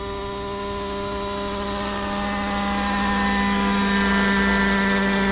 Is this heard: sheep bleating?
no